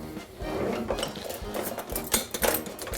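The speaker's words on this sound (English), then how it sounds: "Now I always take a wire whisk to do my mixing of my dry ingredients." A wire whisk stirring dry ingredients, including sugar, in a bowl: quick, close, irregular metallic clinks and scrapes against the bowl, with no talking.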